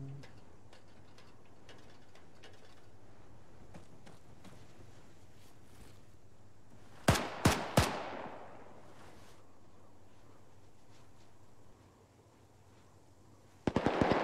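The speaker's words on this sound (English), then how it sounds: "He's shooting through that window" Gunfire in Arma 3: a quick burst of three sharp, loud shots with a ringing tail, then another cluster of cracks near the end, over a quiet low ambient hum.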